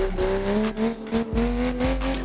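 Ken Block's Hoonipigasus Porsche racing in Assetto Corsa, its engine holding a loud, high droning note that climbs steadily, briefly dipping with gear changes, with faint tire noise underneath.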